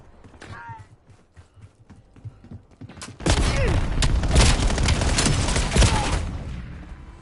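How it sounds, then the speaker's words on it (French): Shotgun fire in the video game Black Ops 7 bursts into a dense, loud barrage of overlapping blasts and explosions after a few seconds. Earlier, scattered shots and game voices are heard. "Il est content avec son fusil à pompe."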